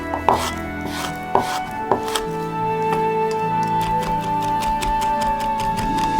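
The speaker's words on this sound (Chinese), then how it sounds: "虾仁儿还需要再进一步处理，" Steady knife chopping of peeled shrimp meat on a cutting board, a few sharp isolated strikes at first, then a fast, even run of close, crisp taps alone without talk.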